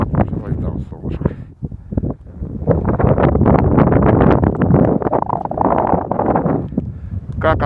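Strong wind buffets the microphone on an icy, snowy outdoor walk, a loud gusting roar under a person talking throughout.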